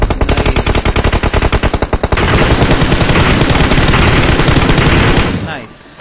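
Rapid automatic gunfire from PUBG gameplay, a loud sustained burst of fast regular shots that thickens into a dense barrage, then cuts off abruptly near the end.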